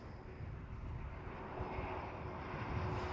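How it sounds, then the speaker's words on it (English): A KLM Cityhopper Embraer E195-E2 jet at Amsterdam Schiphol gives off a steady broadband engine roar with a faint whine, holding even and fairly distant across the whole stretch, no voices. "This is KLM Cityhopper E195 E2."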